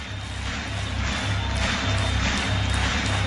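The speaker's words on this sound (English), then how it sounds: "Let's clap, and then we'll jump." An audience claps together at a motivational self-help talk, a dense, steady wash of hand claps that carries at an even level for the whole stretch.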